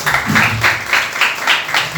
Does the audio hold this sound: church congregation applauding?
yes